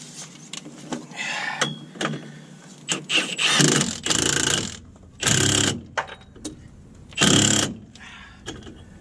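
Ratchet wrench tightening the mounting bolt of a truck shock absorber during MOT preparation, several bursts of rapid clicking separated by short pauses, close and loud, with faint workshop noise between strokes.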